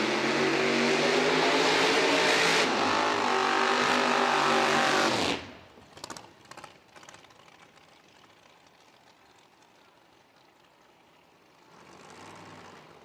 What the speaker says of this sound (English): Backing up here from their burnouts, Jeremy Kreisman on the left-hand side.